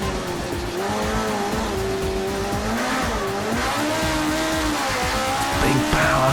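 Mini race car engine working hard up and down through the gears, pitch rising and dropping in repeated sweeps, loud and close with tire squeal throughout.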